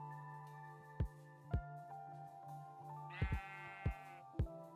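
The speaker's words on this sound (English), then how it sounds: "Oh sheep." Sheep bleats in modded Minecraft, a single wavering bleat rising over steady background music, with several dull thumping footsteps scattered through the clip.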